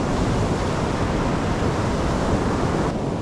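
Ocean surf rolling onto the shore during salmon fishing, a loud, continuous wash of broadband roar with wind buffeting close to the microphone and no speech.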